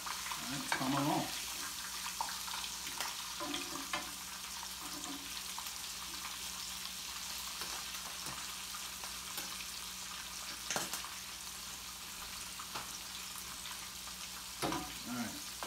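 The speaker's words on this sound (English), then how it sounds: "there we go, got a good sizzle" A whole catfish fries in hot oil with a steady, close crackling sizzle that runs throughout, broken by a few clinks and stirring movements at the start and end.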